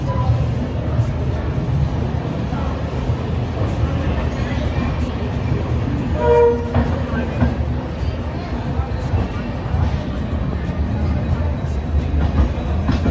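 The Kota Janshatabdi Express departs Mathura station, rumbling along with a steady low roar and rhythmic rolling, while people talk over the noise throughout.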